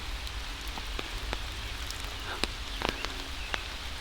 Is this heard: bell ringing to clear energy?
no